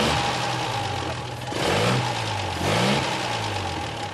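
A vintage Bentley 3.5 Litre with a straight-six engine drives steadily, its smooth low hum rising twice in brief revs over constant road and wind noise.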